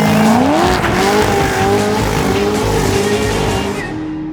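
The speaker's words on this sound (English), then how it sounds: "Makes beautiful noises, does wonderful smoky burnouts." A Corvette doing a smoky burnout, its tires squealing in a loud, continuous wavering screech over a roaring engine, close and steady for the whole stretch before tailing off at the end.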